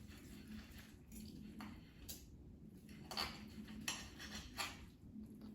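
A knife slices through a browned, air-fried pork tenderloin, giving soft scraping cuts and a few light clicks against a board or plate, quiet and close with no talk.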